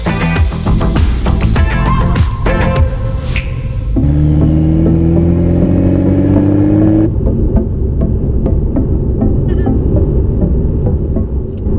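A Porsche 911 Carrera 4S 991.2 drives a mountain road, its engine loud and close with a continuous throbbing rumble that climbs in pitch as it accelerates, holding a steady drone through the middle before settling back to a rougher, lower note.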